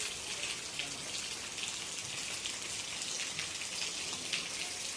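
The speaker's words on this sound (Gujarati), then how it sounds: "લણી લીધો તો પાછો વરસાદ ચાલુ થઈ ગયો।" Steady rain falling on a rural farm during the harvest of pearl millet, a dense continuous patter of drops that stays even and fairly close throughout, with no voices.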